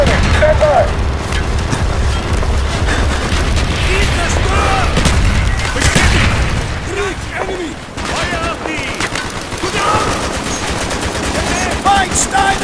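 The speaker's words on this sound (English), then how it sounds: "Firing mortar!" Mortar fire in the video game Call of Duty Black Ops, loud booms mixed into dense, continuous machine-gun and rifle fire throughout a chaotic battle.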